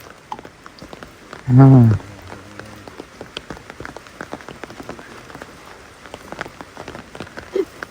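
Heavy rain patters steadily on a surface throughout, with a short loud vocal sound near the start and a brief voice later.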